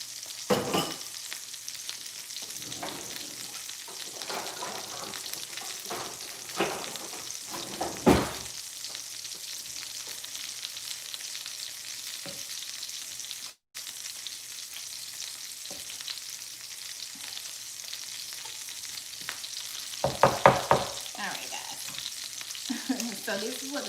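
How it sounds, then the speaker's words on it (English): Meatballs in sauce being stirred in a pan, a continuous soft sizzle with intermittent scraping and clacking of the spoon against the pan, close by, a couple of louder knocks near the end, no voices. "I'm going to give it a stir so you guys can see it too"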